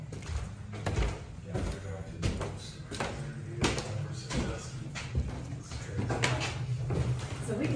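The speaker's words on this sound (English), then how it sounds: "you can shut that door for us" Inside a supposedly haunted place, several knocks and thuds sound as a door is handled and shut, with sharp bangs scattered across the clip over people talking nearby.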